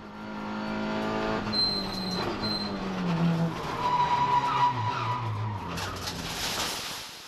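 VW Golf GTI race car skidding off at the first corner during a circuit race, with engine roar and squealing tires rising and shifting as other cars pass, loud and fairly close, with no talk.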